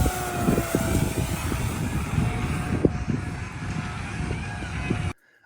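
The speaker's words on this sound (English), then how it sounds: "We have a really cool flyby that's about to go down." A B-17 model warbird airplane makes a flyby, its steady propeller engine drone and wind rush holding loud and even for about five seconds before cutting off abruptly.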